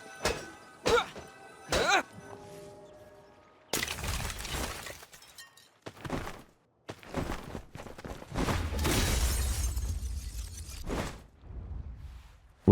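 A glass portal shattering in Genshin Impact, several sharp crashing breaks and clinks separated by pauses, followed by a longer loud crumbling rush and a low rumble.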